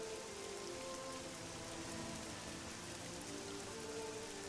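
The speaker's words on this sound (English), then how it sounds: "Of course, it's bloody raining," Steady, dense rain in the video game Oblivion patters down on a hard surface, an even hiss with no voices or thunder.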